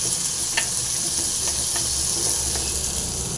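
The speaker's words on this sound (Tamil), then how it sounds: "பூண்டு போட்டுடலாம் கருவேப்பிலை அடுத்தது வெங்காயம் ஓகேங்களா இதை வந்து நல்லா ஃப்ரை ஆகட்டும்" Garlic, curry leaves and onion frying in hot oil in a pan, a steady close sizzle with faint stirring scrapes and no talk.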